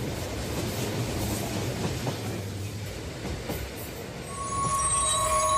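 A cartoon sound effect of a train running onto a long bridge: a steady rumbling clatter of wheels, then thin, high squealing tones rising near the end, with no speech.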